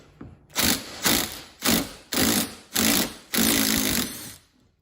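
An impact wrench loosens a bolt on a 1970 140 H3 engine, firing in six loud, close rattling bursts, the last one longest, with no talking over them.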